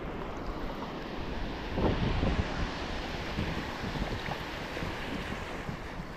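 Rough sea waves wash steadily around a small fishing boat near rocks, with wind buffeting the microphone and a slightly louder surge partway through; no one speaks.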